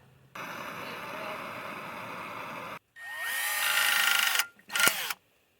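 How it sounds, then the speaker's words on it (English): A power drill whirs steadily up close on a Hummer H3 CV axle and differential bushing job, stops, then revs again with a rising whine and a short final burst before cutting out. "Drilling it."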